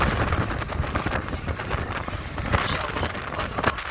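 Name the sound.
strong wind blowing in Mecca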